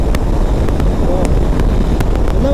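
A Hero Xpulse 210 adventure motorcycle's engine runs steadily while riding, its drone largely buried under heavy, continuous wind buffeting on the microphone.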